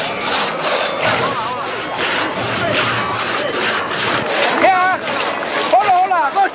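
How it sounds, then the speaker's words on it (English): Hand saws rasp through wood in a traditional Basque strongman sawing contest, with rapid rhythmic strokes over constant crowd noise and occasional shouts. "Then comes the sawing contest."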